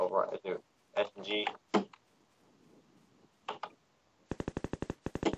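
SMG gunfire in the video game Garry's Mod comes after a stretch of excited talk: a sudden, loud, rapid burst of evenly spaced shots near the end.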